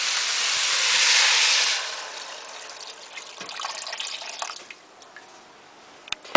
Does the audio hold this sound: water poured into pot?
yes